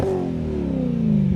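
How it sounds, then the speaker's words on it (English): A BMW E92 M3 engine fitted with a Fabspeed Maxflo exhaust revs steadily and loudly up close for about a second and a half, its harmonic tone holding strong with no voices over it. "Just rev it."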